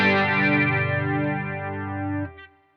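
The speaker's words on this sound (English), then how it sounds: "So let's search for a flanger. Okay, analog flanger, that looks interesting." A distorted electric guitar chord through an analog flanger effect in AmpliTube rings out with a sweeping, whooshing modulation, sustaining loudly before cutting off abruptly.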